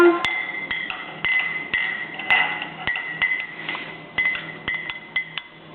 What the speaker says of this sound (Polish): mieszam łyżeczką